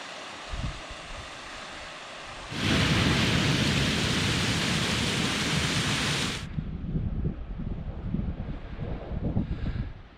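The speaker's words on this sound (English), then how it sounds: "it's starting to rain" Rain falling during a mountain hike in the Sangre de Cristo Mountains, with a broad roaring surge of noise lasting several seconds amid steady patter and wind buffeting on the microphone.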